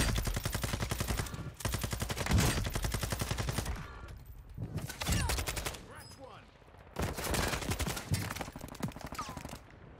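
Bursts of automatic gunfire in a shooter video game on Ashika Island, with rapid rattling volleys that stop and restart several times, loud and close.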